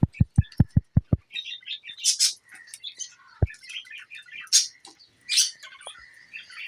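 Pet king quail and lovebirds, a quick series of sharp taps at the start, then bursts of bright chirps and twittering calls scattered close by in a quiet room.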